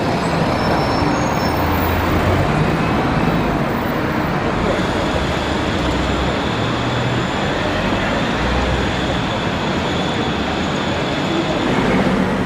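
Trident double-decker London bus pulling into a bus garage, a loud steady engine rumble with dense broadband road noise throughout and no voices.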